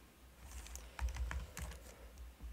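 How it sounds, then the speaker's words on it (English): Quiet typing on a computer keyboard while entering commands, soft scattered keystrokes in short clusters over a low hum, with no speech. "by typing the first characters and then tab, then you get the name"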